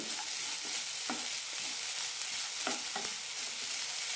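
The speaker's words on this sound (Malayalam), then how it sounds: "ഏലക്കായും നന്നായി മിക്സ് ചെയ്യാം" Sweet kozhukatta filling of grated jaggery and cardamom is mixed in a pan over a steady, loud sizzle, with soft scraping stir strokes every second or so, close up and with no voices.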